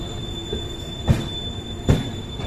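The 12546 Karmbhoomi Express pulls into platform 3 at Raxaul, with a steady low rumble of rolling rail cars and two distinct clanks of wheels over rail joints, close by and without voices.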